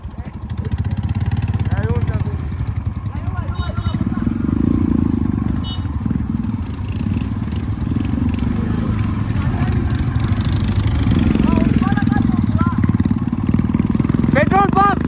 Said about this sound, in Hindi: चलते बाइक मीटअप हो गया गाइस, 5-6 बाइक है उधर। चेक करो गाइस, 1 2 3 4 हिमालय और एक बुलेट।